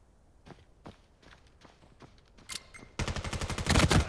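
Gunfire in a 5v5 esports shooter match, a few scattered distant shots at first, then a rapid, loud burst of repeated shots building toward the end.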